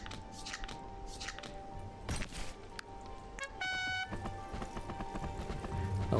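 Horse hooves clip-clopping in the video game Commander Quest, a quick run of clattering hoof beats joined by a whinny and other game effects, at moderate loudness with no talking over it.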